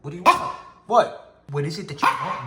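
A pet dog barks several times up close, sharp separate barks spaced through the clip, with someone speaking to it between and over them.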